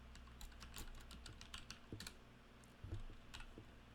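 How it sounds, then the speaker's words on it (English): Rapid, uneven clatter of keys on a computer keyboard, played during a Minecraft Java Edition PC session, with bursts of close, crisp taps and short pauses and no voices. "Bear with me as I try to get straight on my typing here."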